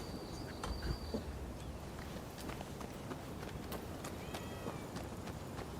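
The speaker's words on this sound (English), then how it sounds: "I heard a cat." A cat meows a few times in the video game Rise of the Ronin, faint thin cries over a steady ambient game background with scattered footsteps.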